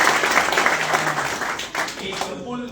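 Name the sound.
audience applause for Ashraf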